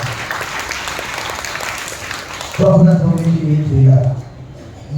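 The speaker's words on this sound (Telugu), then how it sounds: "చప్పట్లు కొట్టి ప్రభువును మహిమపరుస్తాను" A church congregation claps in a brisk burst of applause during a Christmas sermon for a few seconds, then it stops and a single voice starts speaking.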